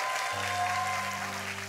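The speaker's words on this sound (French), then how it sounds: "Nous l'accueillerons sur scène sous un tonnerre d'applaudissements" Applause from a church audience welcoming a senior pastor onto the stage, a steady dense wash of clapping under a low sustained musical tone, heard for a brief moment.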